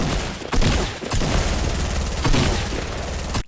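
Gunfire rattles in a Fortnite match, with loud, dense bursts of shots and booms coming close together for a few seconds before cutting off abruptly.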